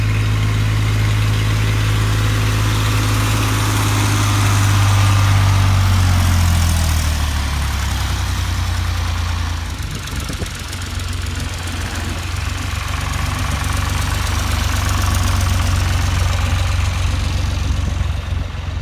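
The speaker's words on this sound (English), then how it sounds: "When the bins are full, the tractors pick them up and get them out of the way." A tractor engine idles steadily and loudly throughout with a deep, constant rumble at an apple farm; no voices are heard.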